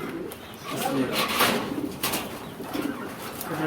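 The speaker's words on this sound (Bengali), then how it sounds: "এটা হচ্ছে সিরাজি কবুতর" Sirazi pigeons coo in soft, repeated throaty calls close by, with faint voices in the background.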